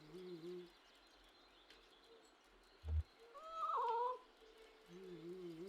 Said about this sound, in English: Probing meow.